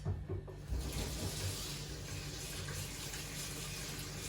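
Water runs steadily from a tap into a container in a kitchen under repair, a continuous close gushing hiss with a few faint knocks at the start and no talk.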